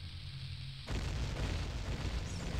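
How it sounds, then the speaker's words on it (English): A bomb flower blows up in The Legend of Zelda: Ocarina of Time, a sudden deep boom that cuts in after a quiet lead-in and rumbles on as a loud, sustained low roar. "And drop it here, and watch the explosion."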